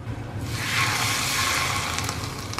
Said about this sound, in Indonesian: Lalu ini minyak panasnya akan kita siram ke lombok